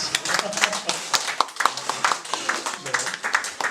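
A small group at a church young couples' meeting claps hands in a brisk, uneven patter, close and moderately loud, with sharp individual claps standing out through the few seconds.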